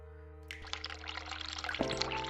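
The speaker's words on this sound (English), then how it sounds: "run hot water tap." A hot water tap turned on in the game The Cat Lady: after a quiet hum, water starts pouring, then runs as a steady close splashing stream over a low background drone.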